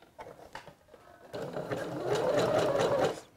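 A sewing machine runs a zigzag stitch over elastic on a swimsuit, a few short bursts of stitching followed by a steady, louder run of rapid mechanical whirring up close.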